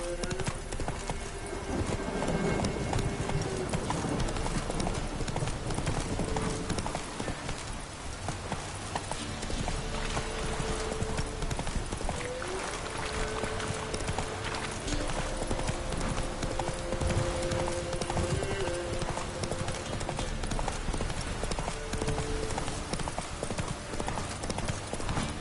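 Hooves of the horse Roach in the video game The Witcher 3 clip-clop steadily through a galloping run, a continuous rhythmic pounding over game music and ambience with no speech.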